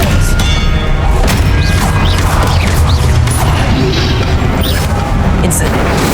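Expelliarmus spell cast in Hogwarts Legacy amid dense, loud combat noise, with a sharp crack of magic over continuous rumbling booms and clattering impacts, and a voice speaking through the din.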